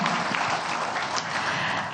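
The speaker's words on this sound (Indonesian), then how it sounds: "Kita rasanya boleh tepuk tangan yang meriah untuk ulang tahun ke-9 Partai Nasdem" Audience applause at the NasDem party's 9th anniversary celebration, dense and steady clapping from a large crowd filling the whole moment with no talk over it.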